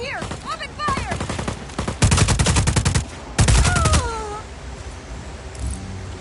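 Two loud sustained bursts of rapid automatic gunfire in the video game Just Cause 4, set between shouted game voices and falling whistling tones, with quieter ambience afterward.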